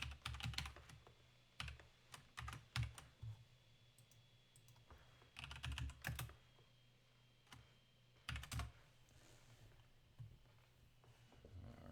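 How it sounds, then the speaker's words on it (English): Bursts of computer keyboard typing, quick clicking keystrokes in several short runs separated by pauses, fairly close and moderately loud. "but maybe some typing"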